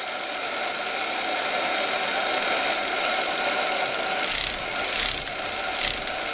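A small steam engine in a radio-controlled Paterson tugboat runs steadily, a quiet, even mechanical ticking and chuffing heard up close with no talk, with a few brief hissy bursts toward the end.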